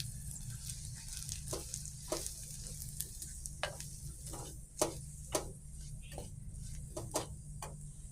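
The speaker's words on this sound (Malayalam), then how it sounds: "അര ടീസ്പൂൺ മഞ്ഞൾപ്പൊടി നമുക്കിനി ഇത് നന്നായിട്ടൊന്ന് മൂപ്പിച്ചെടുക്കാം" Turmeric and chilli powder sauté in hot oil in a pan for a fish curry, a steady soft sizzle broken by repeated light scrapes and taps of a stirring spoon.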